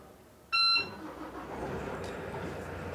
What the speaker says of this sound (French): une alarme va retentir